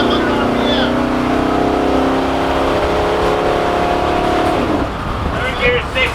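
A Divco milk truck fitted with a Ford V8 pulls hard through its gears, a loud, steadily rising engine drone that drops at a shift near the end, with voices talking over it.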